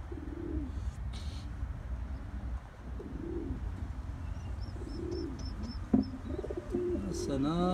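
A pair of tippler pigeons give a run of low, rolling coos, several in quick succession, beside a breeding box, with brief high chirps and a soft thump near the end.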